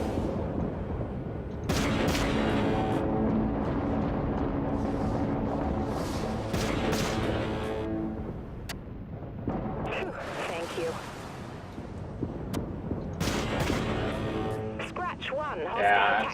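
Warship guns and torpedoes fire in the game Dreadnought, a run of heavy booming blasts and rumbling explosions spread across the whole stretch, loud and dense, with a voice talking underneath.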